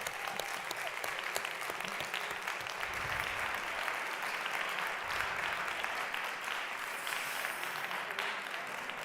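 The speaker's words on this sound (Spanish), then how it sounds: "Un aplauso súper fuerte." A crowd claps steadily in loud, sustained applause at a results presentation in the Basque Country, close and dense, without pause.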